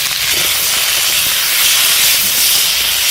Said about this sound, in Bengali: এই যে মশলার তেলের উপরে কচু দিয়ে ভেজে নিলে কচুটা খেতে খুবই টেস্ট হয়।